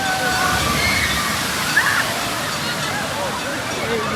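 Water pours and splashes continuously at a water park in Canada, a steady, broad rushing wash with faint voices in the background.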